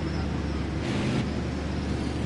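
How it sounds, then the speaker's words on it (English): A car drives past outside, a loud, broad road rush that swells briefly in the middle of a short stretch of steady traffic noise. "Got a car coming high now."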